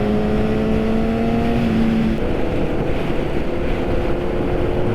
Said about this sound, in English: The sound from the exhaust is getting me sleepy